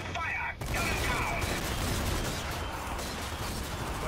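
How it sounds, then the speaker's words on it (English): A gun turret fires in Zombie Army 4 as a dense, continuous fusillade of rapid shots, loud and close and steady throughout, with a voice speaking over the barrage. "Gun turret."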